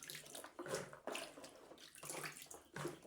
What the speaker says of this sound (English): We're going to give this a good rinse and place it aside.